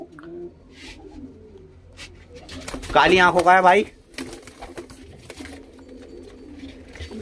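A Punjabi pigeon with dark eyes gives a clear, loud burst of rolling coos lasting about a second, rising over someone talking nearby against steady low background noise.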